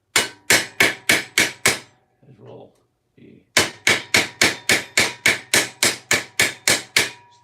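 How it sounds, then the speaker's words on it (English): A bar is hammered into place with sharp, ringing metallic blows in a fast, even rhythm, six strikes, a short pause with a few soft knocks and brief words, then a longer run of about a dozen loud hits. "I will hammer it in more."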